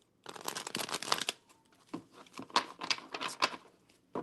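A deck of tarot cards shuffled repeatedly, bursts of quick riffling and flicking, close and crisp, with short pauses between rounds.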